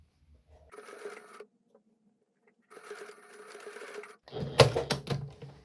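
A home sewing machine stitches a seam on an H-line skirt in two short bursts separated by a pause, followed by louder clicks and clatter close by.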